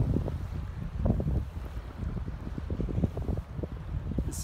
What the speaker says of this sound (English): Battling the wind is not all it's cracked up to be